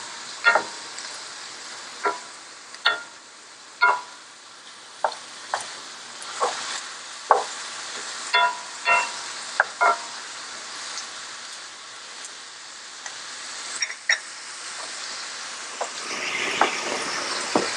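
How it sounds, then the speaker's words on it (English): Onions and minced garlic sautéing in a pan, a low steady sizzle punctuated by regular sharp clicks and scrapes of a utensil stirring, close and moderately quiet. "Saute the onions until they become translucent."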